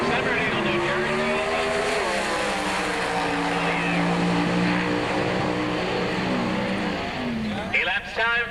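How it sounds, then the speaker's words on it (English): Pro Stock drag racing at the 1986 NHRA Spring Nationals, a Camaro and an Oldsmobile 442: loud sustained engine roar with rising and shifting pitch, heard from a distance under an announcer talking over the public address. "Kenny Delco drives the Flip Speed Shop Camaro in the tower side."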